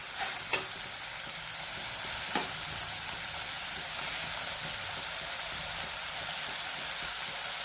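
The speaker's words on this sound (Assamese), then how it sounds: "এইখিনি অলপমান কেঁচা ভাৱটো যোৱালৈকে এনেধৰণে লাৰি থাকিব লাগিব।" An omelet curry is stirred in a frying pan, a steady sizzle and hiss of frying food with a couple of sharp utensil scrapes near the start, close and continuous throughout.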